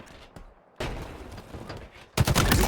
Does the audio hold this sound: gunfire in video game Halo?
yes